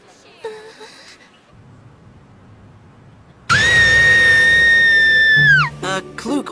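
An anime character lets out a long, loud, high-pitched scream lasting about two seconds that breaks off abruptly, preceded by a brief voice and quiet background ambience.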